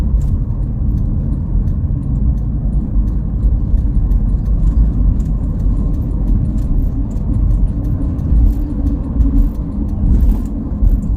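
A car travelling along the Jagorawi toll road in Indonesia on a clear day, with steady tyre and road rumble and engine noise heard from inside, continuous and fairly loud, with no talk.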